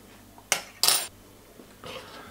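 Dry bread dough ingredients, including sesame seeds, bread spice and salt, stirred together in a bowl for wholemeal spelt bread, giving a few short clinking, scraping bursts close by with quiet gaps between them.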